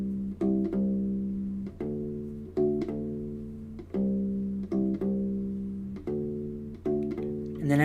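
Deep plucked notes from a U-Bass ukulele bass in a short repeating phrase, each note sustaining briefly before the next attack, close and clear with no voices.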